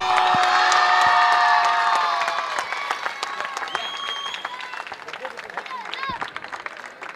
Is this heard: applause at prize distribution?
yes